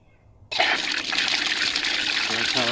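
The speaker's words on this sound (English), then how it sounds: "Okay, I'll turn the water on." Water bursts on suddenly through a programmable garden hose timer after a brief quiet, then flows in a loud, steady rushing gush with a gurgling trickle toward the end.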